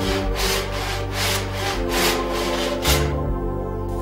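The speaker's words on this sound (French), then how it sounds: "sciez" A hand saw cutting a floating parquet floor plank, with rapid back-and-forth strokes rasping loudly and close through the wood, no voices.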